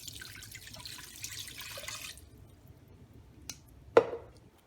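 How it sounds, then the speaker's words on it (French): Water from a jug pours over a handful of garden leaves in a cooking pot, a steady broadband splash for about two seconds, then quiet with a small clink and a sharper knock near the end. "Je vais mettre 1 litre d'eau."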